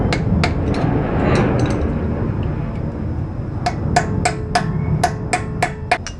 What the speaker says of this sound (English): Punch this pin a little bit.